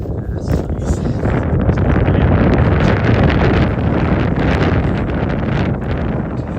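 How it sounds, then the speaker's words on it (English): Cold wind buffets the microphone on an outdoor morning trail run, a loud, continuous rumbling roar that rises and falls slightly and runs the whole time without any voices. "Woo, that wind is cold."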